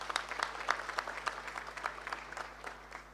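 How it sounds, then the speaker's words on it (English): A forum audience at the African Union high-level private sector forum applauds, a fairly quiet, steady wash of many hands clapping heard from a distance, with a low constant hum underneath. "I think we should give Honorable Rebecca Miano another round of applause"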